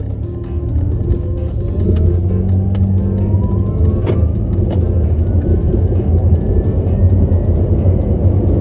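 A 2010 Dodge Caravan with a slipping transmission driving along, a steady loud engine and road rumble from inside the cabin, with rising engine tone as it accelerates.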